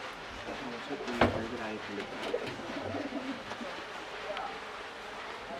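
Domestic pigeons in a home pigeon collection give soft, low, repeated coos, heard close alongside a person talking and a few light knocks.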